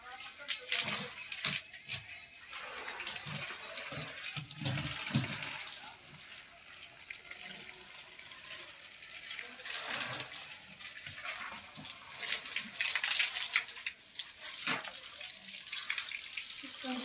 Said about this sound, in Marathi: झाडाला पाणी मारते मी